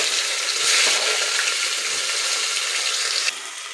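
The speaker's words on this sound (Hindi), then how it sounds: "फिर हम प्याज डाल रहे हैं इसमें।" Onion goes into hot oil already seasoned with asafoetida and a bay leaf, setting off a loud, close, steady sizzle that holds throughout and eases slightly near the end.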